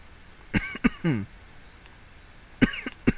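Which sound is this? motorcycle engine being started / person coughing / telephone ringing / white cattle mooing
person coughing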